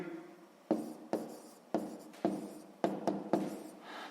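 A pen scratching across paper during a sixth-grade maths exercise, written in short close strokes, about seven quick bursts with brief pauses between them, no talking.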